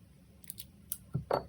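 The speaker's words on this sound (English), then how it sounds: "I'm going to snip off a couple of these leaves" Scissors snipping paper leaves for a pop-up card: a few quick, crisp, close snips and clicks spread over about a second, with quiet room tone between.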